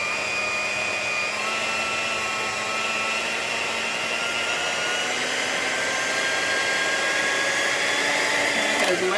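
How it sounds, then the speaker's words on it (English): An electric mixer runs on banana chocolate chip muffin batter with a loud, steady, close whirring drone that holds an even pitch throughout, ending with a brief bump near the end. "And letting the mixer mixer go for a couple of minutes so it can all come off of there."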